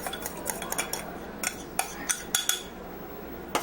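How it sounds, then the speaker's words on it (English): Rice stirred into mushrooms and onions in a pot for wild mushroom risotto, a spoon clinking and scraping against the metal in a quick irregular series of close taps and scrapes. "stir it right into the mushrooms and onions"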